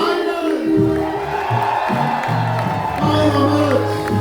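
An audience at a live music show roars, whoops and yells for a steady few seconds, a loud close mass of cheering voices with a spoken voice mixed in.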